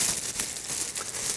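A plastic bag is pulled over a leg to prepare it for sock AFO casting, producing a steady, close, hissy crinkling and rustling of thin plastic.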